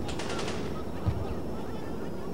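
A burst of rapid automatic gunfire in the PS2 co-op shooter Black Hawk Down, rattling loudly near the start then giving way to a dense battlefield din with a voice faintly mixed in.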